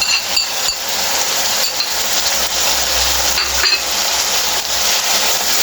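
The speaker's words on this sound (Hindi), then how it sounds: "इसको हम भूनेंगे, थोड़ी देर भुनाई अच्छी तरह करनी है" Red chili, salt and turmeric fry in a pan for aloo matar tinda sabzi, giving a steady close sizzle. A utensil scrapes and taps the pan at irregular intervals as the spices are stirred.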